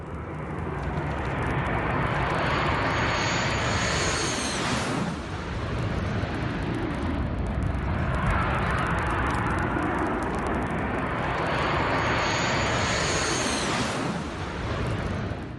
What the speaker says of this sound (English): An Indian Air Force MiG-29 fighter jet arriving back at the Leh Air Base after a mission over Ladakh.